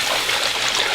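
Tap water running steadily into a sink before washing a wig with Woolite, a continuous close, fairly loud splashing rush with no talking.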